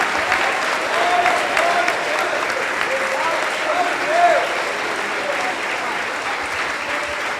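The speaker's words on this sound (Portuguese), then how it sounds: "Aplauda Jesus nessa noite, Ele merece. Aplauda ao Senhor." A church congregation applauds continuously and steadily, a dense wash of clapping from many hands for the whole stretch, with a voice faintly heard beneath it.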